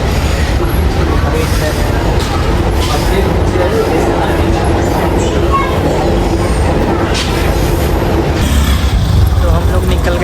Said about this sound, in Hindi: मेट्रो जो है ज़मीन के अंदर बाहर अंदर बाहर अंदर बाहर होते हुए हमें स्टेशन पे छोड़ दी।